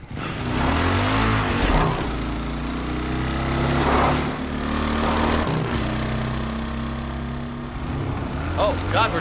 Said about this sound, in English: we're driving the motorcycle?